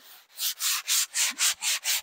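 A sanding block rasps back and forth over wood in seven or eight quick, even strokes, close and loud, with no voices.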